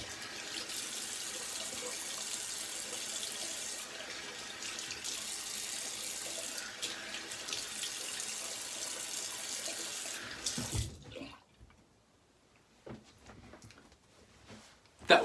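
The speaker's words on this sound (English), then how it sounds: "we'll do the cold water rinse." Cold water runs steadily from a tap for about ten seconds as a razor is rinsed, then cuts off, leaving quiet handling noises and a sharp knock at the end.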